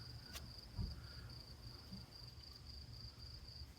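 Crickets chirping outdoors, a steady high continuous trill running throughout at moderate distance, with faint low background rumble and no speech.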